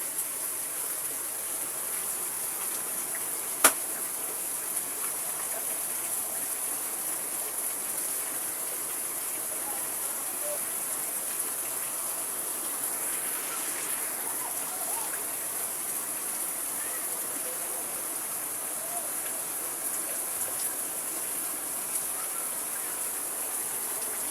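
Steady broadband hiss of heavy rain, constant and enveloping, with water rushing and one sharp click early on; no voices.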